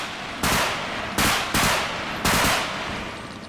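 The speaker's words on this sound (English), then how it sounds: "These sound like guns going off, man" Gunfire in a realistic first-person shooter zombie game: three sharp, loud bursts of shots, each trailing into a decaying echo, with no voices.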